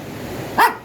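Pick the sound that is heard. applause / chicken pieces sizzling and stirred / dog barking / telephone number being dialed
dog barking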